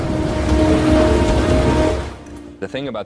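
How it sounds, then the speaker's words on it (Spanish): Steady acid rain on Venus pours down in a dense, even hiss for about two seconds, then fades out as a few soft clicks and a brief voice follow. "Y la lluvia ácida cae de las nubes constantemente."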